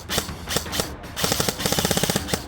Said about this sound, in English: when you pull the trigger, it will fire, and then when you release the trigger,